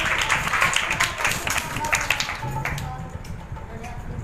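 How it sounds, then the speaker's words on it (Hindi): A church congregation gathered for a Sukkot (Feast of Tabernacles) service claps together, a moderate, steady patter of hands that thins out toward the end, with some voices mixed in. "जोरदार तालियां बजाएंगे मुफस्सिर सदीक साहब के लिए।"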